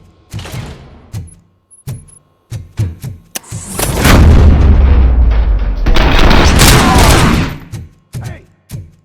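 Gunfire in the PS5 game RoboCop: Rogue City comes as sharp separate shots and booms at first. A long, loud sustained volley follows, then scattered single shots return.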